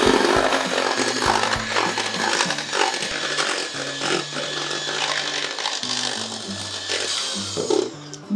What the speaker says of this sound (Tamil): நம்மளோட லாஸ்ட் இன்கிரீடியன்ட் சா கிரீம் ஆட் பண்ணி இன்னும் ஒரு பீட் பண்ணிட்டா நம்ம சீஸ் கேக் ரெடி ஆயிடும்